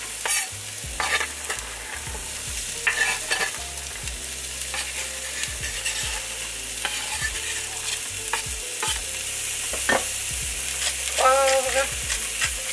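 Carrots and diced zucchini sizzle as they fry in a pot for soup, with a utensil repeatedly scraping and stirring in irregular bursts over a steady, close frying hiss.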